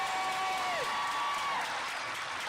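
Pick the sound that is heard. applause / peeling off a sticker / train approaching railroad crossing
applause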